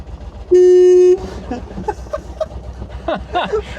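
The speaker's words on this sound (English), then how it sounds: "it's just your knee hitting the horn button on the steering column there" A BMW Isetta microcar's horn, pressed from the steering column, gives one short, loud, steady toot of about half a second, followed by cabin noise and voices talking.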